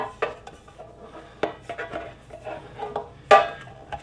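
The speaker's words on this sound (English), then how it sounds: "I'm just going to use a stick of butter, put it down in there, and I'm going to rub it all the way around." A stick of butter is rubbed around the inside of a loaf pan for white bread, giving soft scraping and rubbing strokes broken by several sharp knocks and clatters against the pan, close and fairly quiet.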